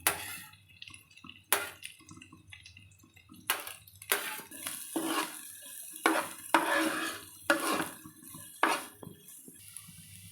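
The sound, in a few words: stir-frying green chilli and onion for baby corn snack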